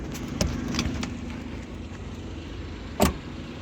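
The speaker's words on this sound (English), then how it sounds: "As you can see, starts right up, no problems." A 1997 Honda Life idles steadily with a low, even engine hum, broken by a couple of sharp clicks or clunks nearby, with no talking.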